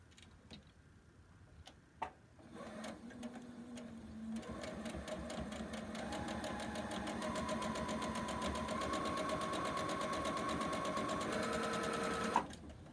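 A sewing machine runs steadily while chain piecing quilt pieces, a rapid close mechanical whir and ticking stitch that starts after a few brief pauses and clicks, then keeps going without stopping.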